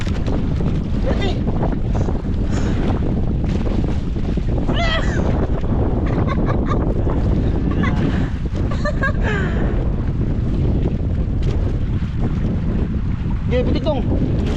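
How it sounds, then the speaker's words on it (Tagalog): Strong wind buffets a small fishing boat at sea, a steady roaring rush with water sloshing against the hull, while people talk intermittently over it. "Lakas kasi ng hangin mga idol."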